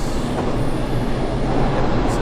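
A JR East commuter train on the Joban Line in a train simulator game runs fast on the rails, a steady close rumble of wheels and carriage noise with faint track clatter and no speech.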